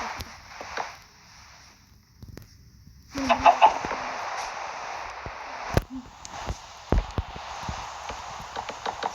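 Minecraft chicken clucks repeat in short bursts, mixed with light tapping footsteps and clicks, fairly close and clear.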